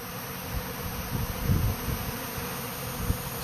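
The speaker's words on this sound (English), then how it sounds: "Still a lot of bees in the air." A massive honeybee swarm flies around a custom hive outdoors, a dense, continuous buzzing hum with individual bees droning past close by now and then.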